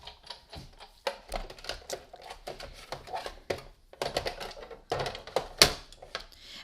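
A Big Shot die-cutting machine brought in and set down at a crafting table, a close series of sharp clacks and knocks with light handling rattles between, irregular and uneven, the loudest thud near the end.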